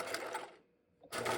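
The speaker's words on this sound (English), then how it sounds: "I'm going to stitch a regular plain seam in this fabric." Sewing machine stitching a plain seam through fabric: a dense, steady whir runs close and loud, pauses briefly into near silence, then resumes at full speed.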